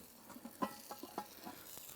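Chicken sizzles in a covered camp oven over a campfire, giving a faint, steady hiss dotted with soft pops and crackles.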